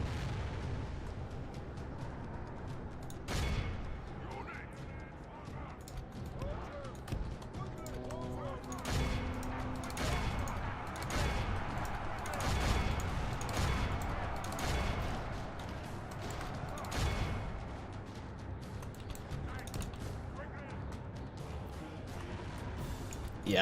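Distant booms of artillery fire on a Medieval 2: Total War battlefield, scattered thuds over a constant roaring battle ambience while someone talks throughout.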